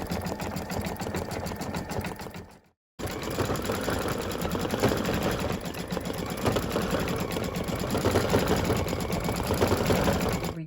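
An embroidery machine stitches underlay, making a fast continuous mechanical whir and rapid needle chatter that stops for a moment, then resumes steadily and loudly, with no talk.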